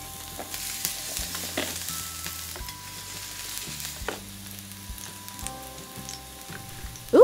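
Steak sizzling on a grill, a steady frying hiss with crackles and pops running the whole time, fairly close, alone with no talk, with a brief louder burst at the very end.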